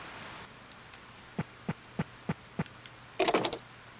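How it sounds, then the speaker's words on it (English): Rain in the Harvest Moon farming video game, a faint hiss with a row of evenly spaced soft drip-like taps followed by a brief louder splash of noise near the end. "The sound of rain is almost like music."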